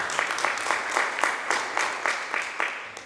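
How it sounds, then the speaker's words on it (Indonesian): A church congregation applauds during an Easter worship service, a dense burst of steady clapping with rhythmic peaks running the whole time, loud and close with no talk over it. "Tepuk tangan untuk Tuhan."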